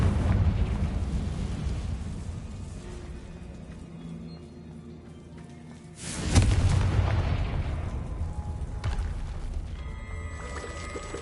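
A Confringo blasting spell explodes in Hogwarts Legacy with a sudden loud, broadband boom midway, followed by a rumbling decay over a low ambient bed.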